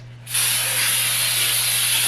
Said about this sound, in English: So I'm gonna go ahead and spray this